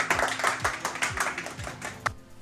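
A small group of people claps after a birthday song, with a steady run of close claps that thins out and ends in one last sharp clap.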